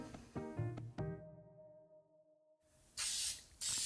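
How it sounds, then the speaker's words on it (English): A few plucked tones fade out, then after a pause come two bursts of close cooking spray on a muffin tin, a sharp hissing spritz. "And spraying the pan just because"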